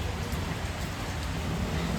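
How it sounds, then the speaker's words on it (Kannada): Steady rain pours continuously outside a shop, a dense even hiss of drops on surfaces with no voices, heard for a couple of seconds. "ಕಂಟಿನ್ಯೂಸ್ ಆಗಿ ಮಳೆ ಬರ್ತಾ ಉಂಟು"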